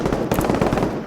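Rapid, dense automatic gunfire from the Arma 3 military video game rattles on without a break for about a second, loud and close with overlapping shots.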